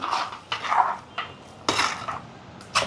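Spoon scraping and clinking against a pan while tomato kurma is stirred, in several separate bursts of metallic scraping with short pauses between them, close up with no voices.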